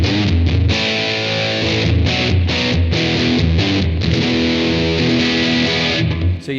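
A heavily fuzzed electric guitar through a Blackstar AMPED 2 plays chords and riffs, thick and saturated, loud and steady throughout with no voices.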